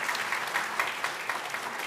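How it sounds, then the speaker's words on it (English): Audience applause at an investment summit session, a steady dense patter of many hands clapping at moderate level, with no voices over it. "A round of applause for our gentlemen here today"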